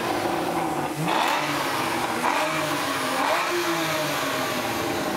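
A Porsche Boxster Bergspyder with a 3.8-liter engine revs loudly and steadily at a night sound event, the engine note rising and falling in several sweeps.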